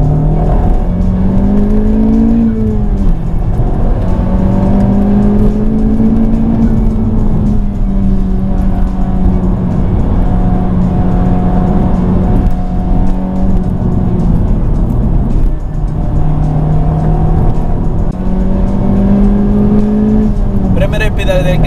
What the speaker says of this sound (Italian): Del gas a fondo, inserire una marcia dopo l'altra è fantastico.